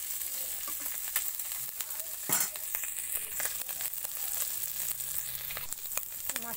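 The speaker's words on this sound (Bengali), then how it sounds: "আমার মাছটা ভাজা হচ্ছে নাকি।" River fish sizzling and frying in oil in a pan, with a steady crackling hiss and occasional clinks and scrapes as the fish is turned.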